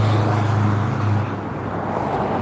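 A Ferrari driving by in a video game: a steady, loud engine and road rumble that holds for a couple of seconds and eases slightly toward the end.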